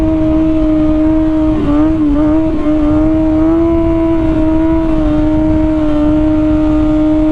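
Steady motorbike engine drone from Halo Infinite, a loud continuous tone with slight pitch wavering as the bike cruises, no speech.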